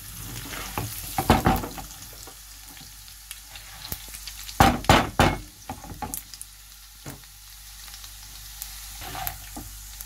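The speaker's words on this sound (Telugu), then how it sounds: "ఇదే టైంలో శనగపప్పు మినప్పప్పు కూడా యాడ్ చేసేసుకోవాలి" Chana dal and urad dal fry in hot oil for a curd rice tempering, a continuous sizzle broken by several loud bursts of spoon scraping and clatter against the pan, close and without voices.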